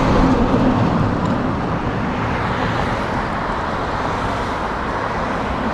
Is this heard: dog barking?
no